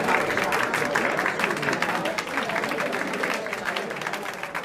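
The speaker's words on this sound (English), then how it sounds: "round of applause for all of you" A large audience at a New York cannabis industry gathering breaks into steady, sustained applause that fills the room, with a voice talking over the clapping throughout.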